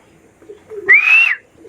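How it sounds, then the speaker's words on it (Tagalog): A racing pigeon, a red bar bird, lands at the loft on a 130 km summer derby training flight. A brief whistling flutter of wings swells for about half a second and then fades, with faint ambient noise before and after. "Si Red Bar yung first dropper natin, training natin ngayon mga kalapatids"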